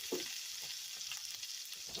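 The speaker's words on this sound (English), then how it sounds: "So I'm going to add my meatballs in." Homemade meatballs simmer and sizzle in a pineapple sauce in a pan as they are stirred, a soft steady frying hiss with faint scraping, no voices.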